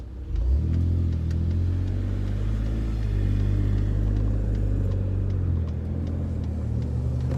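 A 2017 Ford Raptor pickup truck with a Flowmaster FlowFX exhaust rumbles steadily while accelerating, deep exhaust tone rising and holding, loud and close throughout.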